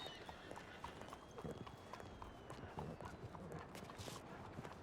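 Horse hooves clip-clop steadily in a video game, a quiet, even rhythm of hoofbeats with faint ambient noise and no voices over it.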